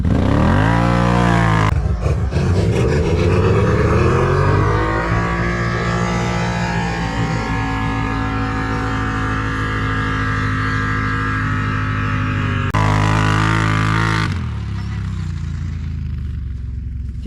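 A Renegade 1000 accelerates hard from a standstill with wheelspin, its engine roaring loud and close in one sustained rising pull that lasts around ten seconds before cutting back.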